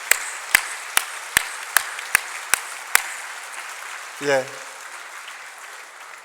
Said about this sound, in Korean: 우리 한번 큰 박수로 축복하겠습니다.